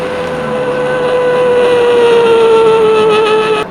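A human voice imitates a car engine revving and accelerating, a loud, steady buzzing drone with a pitch that bends slightly over several seconds before cutting off.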